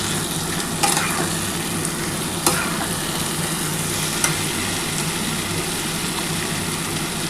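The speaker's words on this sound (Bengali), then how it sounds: "এবার এর মধ্যে কিন্তু আমি চিংড়ি মাছটা দিয়ে একটু কষিয়ে নেবো" Prawns sauté with gathi taro in a pan with a splash of water: a continuous close sizzle and bubbling hiss, with three sharp spatula knocks spread across the stretch and no talk.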